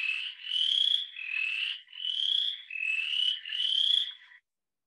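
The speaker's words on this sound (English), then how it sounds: "Let me go ahead and play that again, the Western chorus frog, you get that creaky rocker." Western chorus frog calling alone: five creaky, rising trills in steady succession with short gaps between, close and clear against a silent background.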